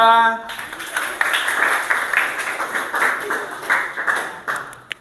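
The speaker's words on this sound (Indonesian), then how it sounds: "beri tepuk tangan untuk kelompok 2" A classroom group of teacher trainees claps after a group presentation, a short ragged round of applause with voices mixed in.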